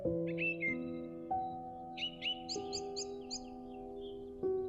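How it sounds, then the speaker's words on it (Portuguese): Small birds chirp in the background, a few short repeated calls near the middle, faint beneath steady sustained tones in a calm indoor meditation setting. "com o barulho dos pássaros ao fundo"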